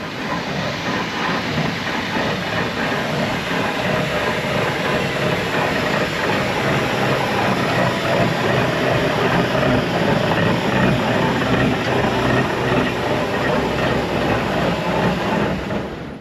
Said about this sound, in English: You can now see the Aveling Road locomotive had made it back